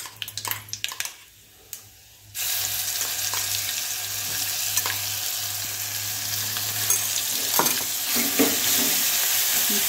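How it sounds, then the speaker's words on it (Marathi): Chilli paste and curry leaves dropped into hot oil: a few quiet clinks, then a sudden loud burst of sizzling that settles into a continuous, intense hiss with scattered pops, no speech. "आणि ह्याच्यामध्ये आता बारीक केलेलं आपण ही मिरचीचं सारण टाकूया."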